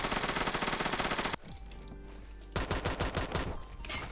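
An MP7 submachine gun fires in the Roblox game Phantom Forces in rapid full-auto bursts, one burst, a short pause with a lingering ring, then another fast burst, loud and close.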